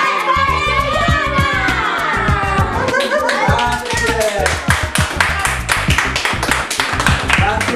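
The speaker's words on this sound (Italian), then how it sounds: "Un applauso per il maestro!" An audience claps in rhythmic, close bursts for a pastry chef presenting Danish pastries and croissant braids, with voices and laughter mixed in.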